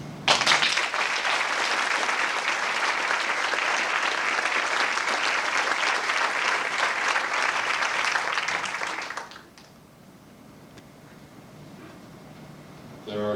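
An audience at a 1992 evening honoring a Marymount College figure breaks into sustained, loud applause that fills the room for about nine seconds, then stops abruptly, leaving quiet room tone.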